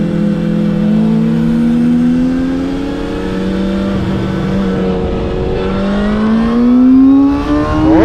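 A ZXJC 500RR sport motorcycle with track throttle tuning revs hard on a race track, its engine note climbing, dropping briefly and climbing again through the gears, loud and close without talking.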